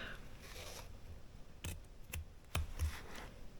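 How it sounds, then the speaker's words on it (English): Scissors make a few short, separate snips while trimming a stitched fabric seam: three or four crisp cuts spaced about half a second apart, close and fairly quiet, with no talking. "Fold this in half and make sure that it's lined up, and then a little snip."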